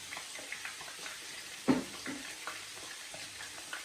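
Onions and garlic fry in a pan for coconut rice, a soft steady sizzle with a few light stirring knocks and one sharper clink near the middle, fairly quiet and with no talking.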